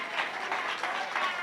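A church congregation applauding during a Sunday sermon: a dense, steady wash of clapping from a crowd, moderately loud and continuous through the short stretch.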